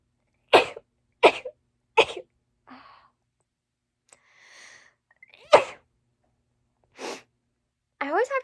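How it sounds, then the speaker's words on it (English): Three sharp sneezes in quick succession, a pause with faint sounds, then two more sneezes, followed by a voice speaking. "I always have to sneeze like 3 to 4 times in a row."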